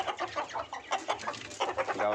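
A small backyard flock of Gavran country chickens, four hens and three roosters, clucking up close in short, irregular bursts of throaty calls, with no talking.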